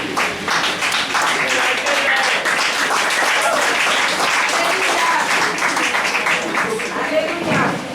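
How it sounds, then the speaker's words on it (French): A church audience claps and cheers for children aged eight to twelve, dense sustained applause at close range with voices shouting through it for the whole stretch. "On acclame pour les Benjamins."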